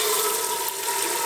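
Hot water sprays from a leaking fitting on a boat's hot water heater, a loud, steady hissing squirt that lasts throughout.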